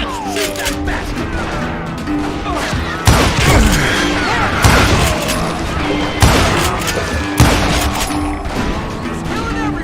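Loud, dense gunfire in a shootout from the video game Call of Juarez Gunslinger, with sharp repeated shot cracks and heavy impacts over a constant roar of battle.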